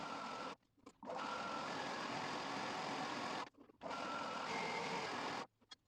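A stand mixer kneads brioche dough at second speed, its motor whirring steadily and loud up close, cutting out briefly twice in short gaps before resuming, with no voices.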